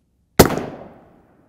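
A single M855 rifle round fires at a Level III boron carbide armor plate, one sharp, loud crack that rings out briefly and decays within about a second.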